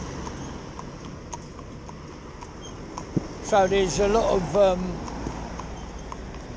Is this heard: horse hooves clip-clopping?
yes